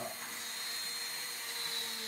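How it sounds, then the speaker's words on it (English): A small handheld rotary drill whines steadily at a constant high pitch while working on a custom action figure, a close continuous buzz with no talking. "Not when I'm making noise with my drill"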